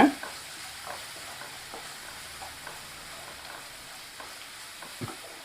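Small shallots frying in a pan for pepper chicken gravy make a soft, low crackle with scattered stirring taps, fairly quiet and continuous with no voices.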